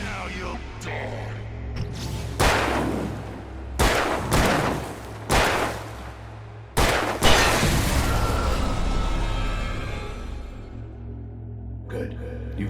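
Gunfire from the video game Alan Wake Remastered: several loud, sharp shots spaced a second or two apart, each with a booming tail, over a low droning game soundtrack.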